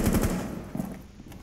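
Sledge fires from the floor above in Rainbow Six Siege, a quick burst of rapid shots at the start followed by a couple of scattered, fainter pops.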